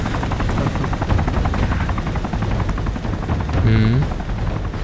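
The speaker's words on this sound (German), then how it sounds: "Der Helikopter landet da." Helicopter from the video game DayZ, a steady rotor drone running throughout the clip at moderate level, mixed with game ambience and a brief rising tonal sound near the end.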